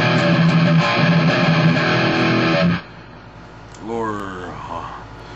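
Distorted electric guitar with a humbucker pickup played through a Digitech GNX1 multi-effects unit set to a single-coil pickup simulation, loud sustained chords ringing then cutting off, followed by quieter bending notes.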